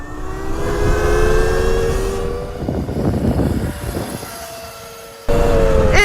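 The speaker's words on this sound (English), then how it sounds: "let's do a top speed run here on the Sur Mantis Mini in the highest power mode" A Sur-Ron Mantis Mini electric dirt bike in its highest power mode runs at top speed, a loud rising motor whine with strong wind rush that fades, then cuts back in abruptly, with no talk.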